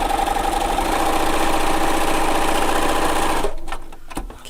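A sewing machine runs steadily and loudly while stitching a rhinestone dog collar, a continuous whirring drone that slows and stops near the end, followed by a few faint handling clicks.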